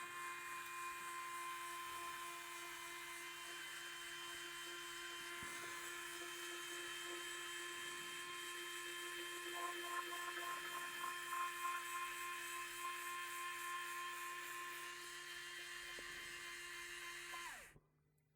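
A small motorised roller shutter door on an N gauge model railway engine shed whirs in a thin, steady, high-pitched motor drone as it closes. There is a brief ratcheting stretch midway, then it stops abruptly near the end.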